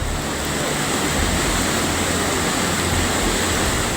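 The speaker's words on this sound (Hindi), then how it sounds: "बार बार लहरों का सैलाब पुल के किनारे से टकरा रहा है" A swollen, fast-flowing river slams wave after wave against the edge of a bridge, making a loud, steady roar of rushing water that continues without a break and with no voices.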